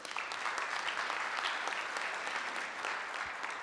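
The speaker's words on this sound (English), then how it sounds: "Can we get a round of applause?" A conference audience applauds after a presentation on archiving and preserving movies, giving dense, steady clapping at close range for a few seconds with no speech over it.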